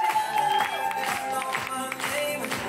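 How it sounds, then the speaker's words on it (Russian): At a dance flashmob event, a crowd claps and cheers over loud background music, the applause sounding steady and fairly close for a few seconds. "Ваши аплодисменты, Мария."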